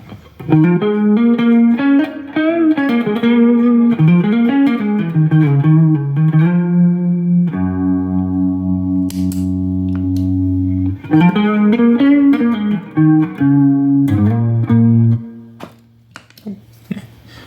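An electric guitar through an analog chorus pedal plays melodic lines and sustained chords with a shimmering, swirling modulation and some in-amp reverb, ringing out alone before fading.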